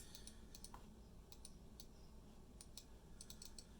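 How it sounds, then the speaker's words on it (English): Left button of a Logitech MX Vertical mouse with a newly replaced switch, clicked several times in faint, sharp, scattered ticks over a quiet background. "Left click."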